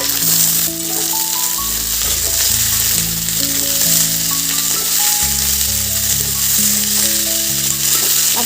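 Onion, potato, tomato and drumstick pieces fry in a pan, a loud, steady, close sizzle with stirring rattles and a melody running underneath, no voices.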